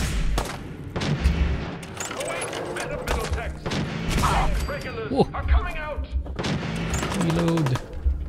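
Gunfire in Fallout 4, rapid bursts and single shots popping repeatedly among in-game voices and effects, close and loud, with a player talking over the fighting.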